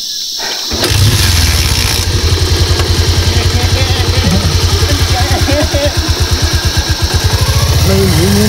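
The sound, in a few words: motorcycle engine running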